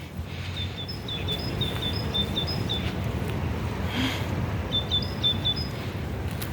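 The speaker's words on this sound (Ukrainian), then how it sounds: "Ви чуєте, як співають пташки?" Small birds sing in two short bursts of high, repeated chirping phrases, faint over a steady outdoor hum.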